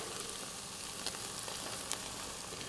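Minced meat sizzles steadily in a hot pan as veal stock goes in, a constant soft frying hiss with a few faint clicks and stirring touches.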